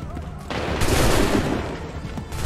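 A musket volley in Assassin's Creed 3 erupts after a brief lull, a loud, ragged burst of overlapping shots that swells and rolls on for about two seconds before easing.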